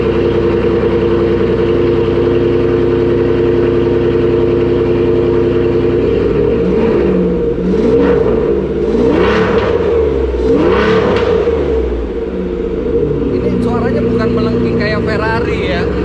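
A sports car in a private Surabaya garage idles with a deep, steady exhaust rumble, then is revved in several rising and falling bursts. Voices are heard alongside it.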